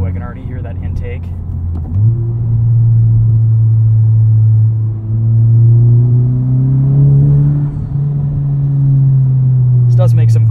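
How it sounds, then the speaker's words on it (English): A modified 2021 Honda Civic Type R engine drones and rises steadily with a deep throaty intake note, revving gradually louder and higher over several seconds, close by. "Oh, I can already hear that intake."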